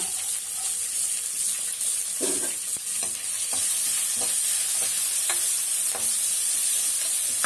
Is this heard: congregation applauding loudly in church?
no